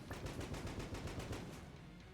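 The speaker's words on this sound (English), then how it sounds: "there's an explosion that's just continuing that won't stop" A continuing explosion in the game Enter the Gungeon sounds as a rapid, even series of sharp blasts, like sustained gunfire, at moderate loudness.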